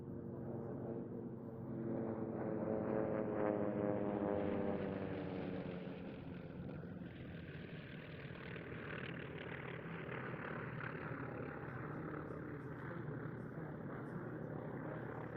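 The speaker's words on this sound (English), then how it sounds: "Leading that formation is the B-25 Mitchell, that sturdy and dependable medium bomber which first flew in 1940." A B-25 Mitchell medium bomber flies in formation with other warbirds at an airshow in Leszno, its propeller engines a steady broad drone that swells into a close pass around mid-clip, then holds as a sustained roar.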